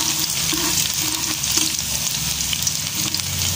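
A whole head of garlic sautéing in hot oil in a pan, a steady close sizzle and crackle running throughout with light stirring scrapes on top, and no voices.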